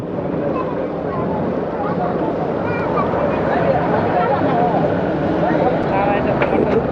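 A continuous rumble of a ferry moving across a river current at Kaptai, Rangamati, with a churning wash and wind, as people talk faintly underneath.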